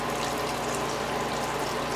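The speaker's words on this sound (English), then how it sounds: "You can see how the water through the colander is kind of spreading to the grains" Homebrew sparge water pours through a colander onto a bed of grains, a steady, dense rushing wash of water close up, with no talking.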